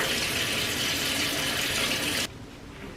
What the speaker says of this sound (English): I need to like really wash my face before I get into this